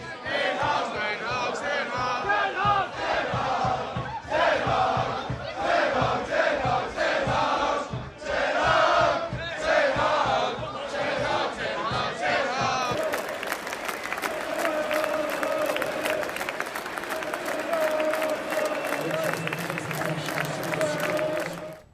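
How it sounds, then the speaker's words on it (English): A large crowd of Manchester United football fans chants Erik ten Hag's name rhythmically after an FA Cup win, voices roaring together, then sustained cheering and applause swell with a steady clapping pulse. "The fans who wanted Ten Hag out all started chanting his name right after that win."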